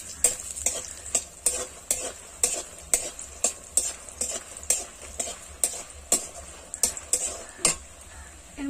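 Katla fish frying in a pan: a steady hot-oil sizzle broken by regular spatula scrapes and clinks about twice a second, close and moderately loud.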